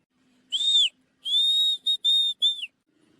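A cartoon character whistling, five clear high-pitched tones in close succession, the first a short rising note and the rest longer steady blasts separated by brief gaps, loud and alone.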